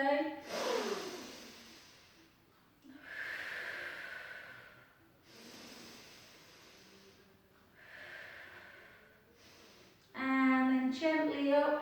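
A person breathes deeply during a Pilates side bend: several long, close, airy breaths separated by pauses, with a brief voiced sound at the end.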